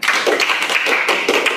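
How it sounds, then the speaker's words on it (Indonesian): An audience claps together at a religious talk, a short, dense burst of hand claps that is loud and close. "tepuk tangan."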